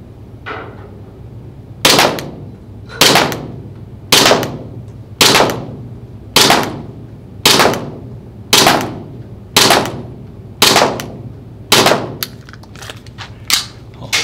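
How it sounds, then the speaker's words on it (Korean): Airsoft gun firing at a target on a range, fitted with a MIYA hop-up rubber and PDI inner barrel: about a dozen sharp, loud shots at a steady pace roughly one per second, each with a quick snap and short decay, then faster shots at the end. "이쪽 오른쪽으로 쏴보겠습니다"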